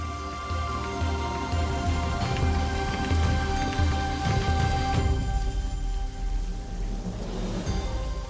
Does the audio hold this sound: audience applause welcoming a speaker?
no